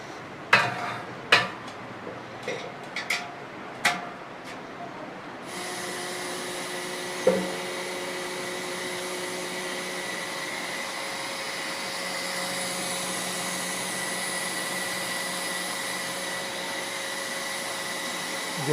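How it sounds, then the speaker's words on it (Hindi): A milking machine pulsator starts up once pressure builds, settling into a steady, loud mechanical hiss and hum with faint tonal whine after several sharp clicks and knocks. No one speaks. "प्रेशर बन गया, पल्सेटर आवाज़ करने लग जाता है।"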